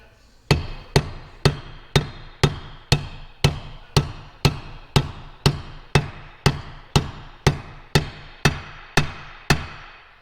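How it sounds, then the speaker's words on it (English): A hammer strikes a tool to drive a frozen bearing home on a 1954 Matchless G9B motorcycle, about nineteen sharp metallic blows at a steady, even rhythm, close and loud with no talk. "we'll use the tool here"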